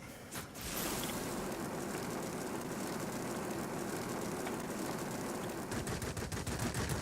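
Aircraft machine guns fire in a flight combat game, a sustained rapid rattle of shots over a droning engine, with a brief burst at the start and denser firing toward the end.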